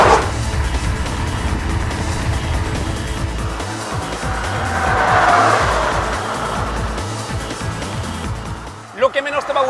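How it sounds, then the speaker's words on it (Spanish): A 2022 BMW 220i Coupe drives along with a smooth, subdued engine drone and road noise from inside the car, while someone talks over it. "Sin duda es el sonido del motor, que siempre es excesivamente discreto"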